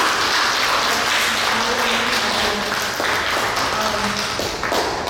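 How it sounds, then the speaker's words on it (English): A crowd at a student showcase performance applauds steadily, a dense wash of clapping with some voices and cheers mixed in throughout. "Can we give a round of applause for our players?"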